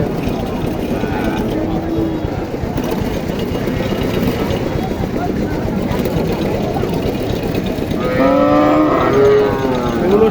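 Deshi cattle low at a busy Naogaon cattle market, with long moos rising over constant crowd chatter and an idling engine in the background.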